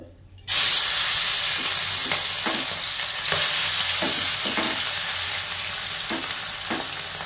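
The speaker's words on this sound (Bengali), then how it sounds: "এবার পুঁটি মাছটা ভেজে নেব।" Small puti fish fry in mustard oil in a fully heated kadai, giving a loud, steady sizzle that starts abruptly and holds throughout, with periodic scraping clicks from stirring.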